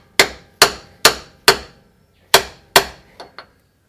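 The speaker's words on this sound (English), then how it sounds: "There's my hammer. Just going to whack that over and use it like a drift." Six sharp metallic hammer strikes on a socket used as a drift, driving in a rear pinion seal on a Toyota 105 Series Land Cruiser, evenly spaced then a short pause, followed by two lighter taps; close and ringing briefly after each blow.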